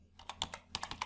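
A few quick keystrokes on a computer keyboard, light and close-up, tapped in an uneven little run while entering text into a spreadsheet cell.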